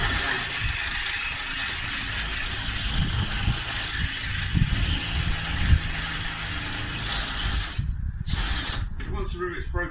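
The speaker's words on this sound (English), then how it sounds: "Just drill through the rivet until the rivet breaks" A drill bores through rivets in a VW campervan, a sustained high whine with grinding bursts that cuts off near the end, with a voice talking over it.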